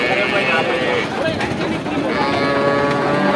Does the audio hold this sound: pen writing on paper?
no